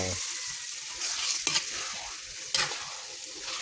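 Chicken cubes fry and sizzle in hot oil while being stirred, giving a steady crackle with two sharp scraping clatters from the stirring utensil partway through.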